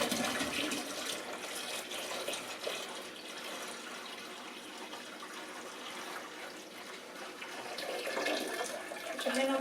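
Apple juice poured into a fermenter for Apfelwein, a steady broadband splashing rush of liquid that swells louder toward the end, with no voices over it.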